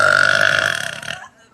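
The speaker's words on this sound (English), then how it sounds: "Are your burps on command" A long, loud, deliberate burp by a woman on a live stream, a single drawn-out belch lasting over a second that trails off into quiet.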